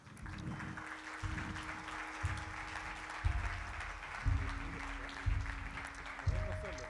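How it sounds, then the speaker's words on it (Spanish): Audience applause at a Purpose Day Chile 2023 talk as a speaker is welcomed to the stage, a steady wash of clapping that holds throughout with rhythmic thumping swells beneath it. "Así es que, con un aplauso,"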